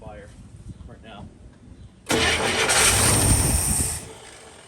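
An International Scout II engine under restoration cranks and tries to start, a loud sustained churning roar kicking in abruptly after a stretch of quieter background noise, then easing slightly near the end.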